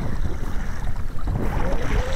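A Moken 10 Angler fishing kayak pushes into short, choppy sea waves off the seafront, with constant sloshing water and wind buffeting the microphone throughout.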